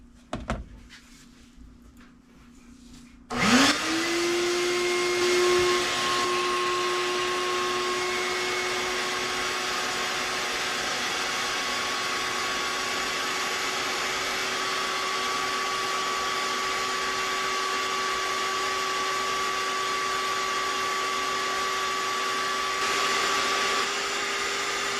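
After a few seconds of quiet, a vacuum cleaner used for static grass on a model railway layout switches on nearby and runs loudly and steadily with a constant whine until the end.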